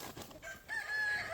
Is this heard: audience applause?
no